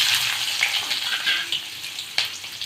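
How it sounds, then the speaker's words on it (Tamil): Urad dal and cumin seeds fry in hot oil for a tomato chutney, giving a steady close crackling sizzle with a few sharper pops and a brief clatter near the end. "உளுந்து போட்டுட்டேன் பாருங்கள் உளுந்து செவந்துட்டா அப்புறம் ரெண்டு ஜீரகம் போட்டுடுங்க"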